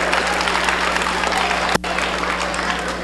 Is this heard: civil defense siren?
no